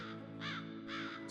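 A crow caws twice in quick succession, harsh nasal calls standing out clearly against a steady low background hum.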